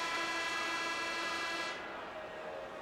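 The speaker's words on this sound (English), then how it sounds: "And with the sound of the horn, that means the conclusion of period number 1." A steady, loud horn blast from NHL 20 ice hockey marks the end of a period, a sustained tonal blare over arena crowd noise lasting about two seconds before cutting to a quieter crowd din.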